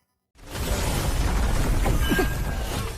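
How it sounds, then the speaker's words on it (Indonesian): An animated energy blast erupts after a brief silence, becoming a loud, sustained roaring boom with rushing, crackling texture that holds steady to the end. "tiba-tiba sebuah energi pun meledak tepat di depannya"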